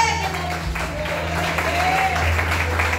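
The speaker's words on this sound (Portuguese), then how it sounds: "Vamos receber o servo do Senhor com palmas bem alegres em nome do Senhor Jesus." A church congregation claps along under sustained keyboard or organ tones and a low hum, the applause moderate and continuous rather than sharp.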